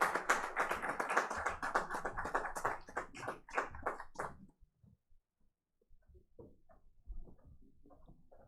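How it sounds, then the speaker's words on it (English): An audience at an IP awards ceremony and conclave applauds with dense, steady clapping that ends abruptly after about four seconds. Faint scattered room noises follow. "A round of applause, please, ladies and gentlemen."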